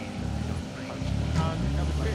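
A BMW rally car at the Donington Rally 2023 revving and pulling away, engine note rising and falling in pitch through gear changes, moderately distant under a commentator's voice.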